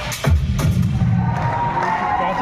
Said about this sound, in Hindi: चलिए जोरदार तालियां हमारी नई डायमंड के लिए